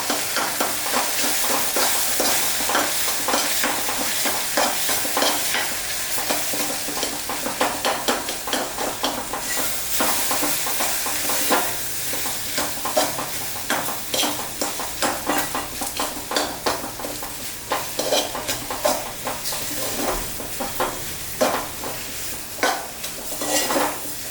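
Kathiyawadi okra curry with red chili powder and garlic chili is stirred in a pan. A loud, busy run of metal spoon scrapes and clinks rides over a constant sizzle.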